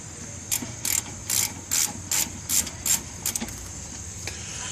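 Ratchet wrench loosening the front brake caliper bolts on a 2013 Dodge Charger, a run of about eight quick, close ratcheting bursts in a steady rhythm, with no talking.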